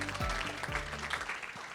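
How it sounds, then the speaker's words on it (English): Audience applause at an excellence celebration event fills the room as a continuous, moderate wash of clapping, with low musical tones underneath. "How about a nice round of applause for Anna and Emily?"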